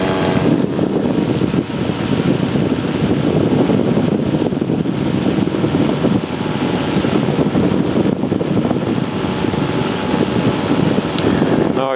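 A gyrocopter's engine and spinning rotor make a loud, steady, unbroken drone throughout the flight, heard close up from inside the aircraft.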